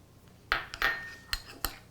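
Spoon or utensil stirring a homemade scrub of coffee grounds, coconut oil and sugar in a bowl, a few sharp clinks against the dish spaced irregularly over two seconds, close and clear.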